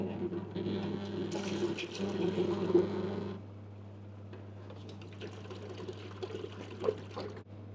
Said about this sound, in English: grab your empty jug and essentially draw off each one individually, again to make sure that the seals are intact and to flush the system through